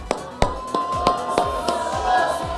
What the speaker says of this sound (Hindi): जोरदार तालियां अक्षय कुमार के लिए.